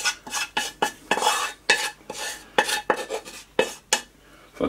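Repeated scraping and clinking of a spoon against a bowl as a pickle, tomato, onion and bacon mixture goes into a slow cooker for meatloaf, in quick irregular bursts and close up.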